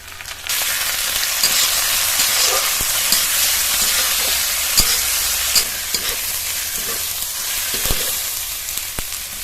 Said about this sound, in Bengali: মশলাটা একটু ভাজা ভাজার মতো হয়ে আসলেই এর মধ্যে টমেটো কুচি আর আদা বাটা দিয়ে দেবো